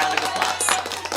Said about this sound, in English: I'm going to give it a round of applause